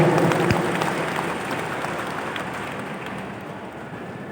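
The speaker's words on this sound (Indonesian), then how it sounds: "Tepuk tangan dulu untuk semuanya." Audience applause at a character-building workshop in Nganjuk, a broad wash of clapping that is strongest at first and gradually fades, ending in a sudden bump of sound.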